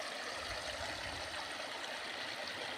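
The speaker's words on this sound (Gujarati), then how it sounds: "ખળખળ ઝરણા વહે ને એ તો કુદરતી છે." A small babbling stream flows steadily and softly, a continuous gentle wash of water with no voices or other sounds.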